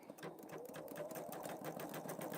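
A Pfaff Creative Vision embroidery machine stitches steadily, a fast, even, rattling needle rhythm running continuously at moderate volume with no talk over it.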